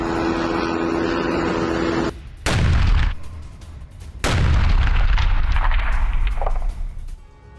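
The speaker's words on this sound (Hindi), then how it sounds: "मिसाइल अटैक में मरकावा टैंक तबाह हो गया" War footage of a missile attack destroying a Merkava tank: loud booming blasts and rumbling gunfire, with two big detonations surging in and a long roar trailing off.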